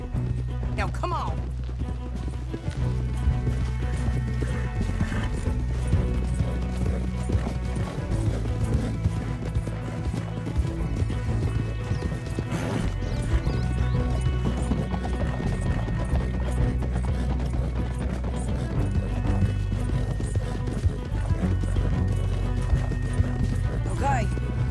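Red Dead Redemption 2: steady horse hoofbeats clip-clop along at a walking pace under a dense game soundtrack, with a horse snorting briefly and a voice talking.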